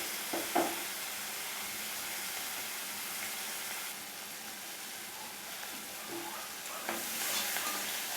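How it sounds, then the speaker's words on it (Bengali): Shrimp frying in a kadai for chingri bhuna: a quiet, even sizzle with a few soft knocks of stirring near the start and end, and no voices. "চিংড়িগুলো আমার ভাজা হয়ে গেছে"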